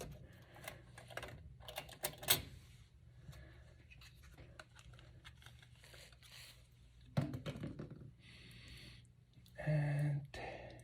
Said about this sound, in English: Let's remove this plastic cap from here.